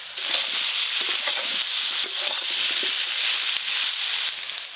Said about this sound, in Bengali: এঁচড়গুলো ভালো করে লাল লাল করে ভেজে নেবো